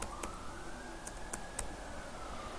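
Typing on a computer keyboard, a few sparse, faint clicks of keys spaced irregularly over a steady quiet background hum, no talking.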